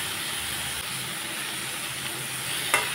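Egg is stirred with dhekishak fern greens in a hot pan, a soft steady hiss and sizzle with faint scraping and one brief clink near the end.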